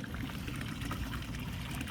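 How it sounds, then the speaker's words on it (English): Seawater runs in steadily through a boat's sea cock toward the air conditioner pump, a continuous close trickling, pouring wash with no pauses. "There's the seawater coming in, so we know our sea cock is full again."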